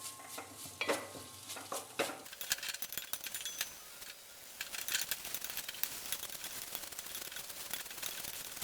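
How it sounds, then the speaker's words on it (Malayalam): Grated ginger frying over a low flame in a non-stick pan for Kerala inji curry, with a steady close sizzle and repeated scraping strokes of the stirring spoon. Stirring is sparse at first and becomes busier midway. "ഈ 1 കപ്പ് ഇഞ്ചി ഇതിലേക്ക് ചേർത്ത് കൊടുത്തിട്ട് നന്നായിട്ട് ഒരു കരികരിപ്പ് പോലെ നമുക്കൊന്ന് വറുത്തെടുക്കാം"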